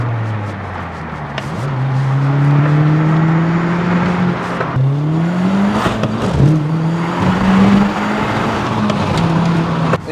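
An Audi S3, tuned to roughly 370 bhp, revs and accelerates hard, its engine note climbing steadily through gear changes, loud and close, with road noise underneath and no talking.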